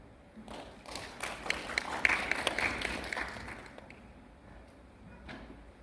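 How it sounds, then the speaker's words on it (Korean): An audience at an opening ceremony for a Seongnam city urban regeneration council training claps briefly, a burst of applause that swells for a few seconds and fades in a quiet hall. "박수 한번 부탁드리겠습니다"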